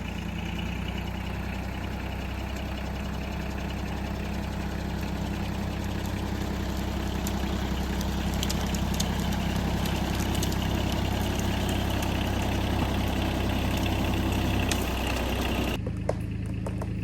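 Engine held in low first gear while given gas, a steady heavy rumble throughout, near and loud, with a brief clattering shift at the end.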